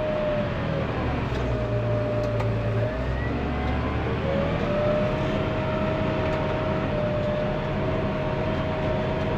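A tractor engine labours steadily while cultivating soil, a continuous loud drone with a rising tonal whine partway through as the gear range changes; no talking.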